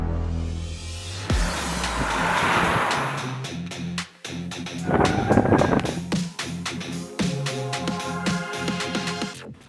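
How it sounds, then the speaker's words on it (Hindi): A 2022 Citroen C5 Aircross driving, its engine hum rising and shifting through gears with steady road and wind noise inside the cabin, accompanied by a few clicks and knocks. "इस नई C5 एयरक्रॉस को चलाते हैं"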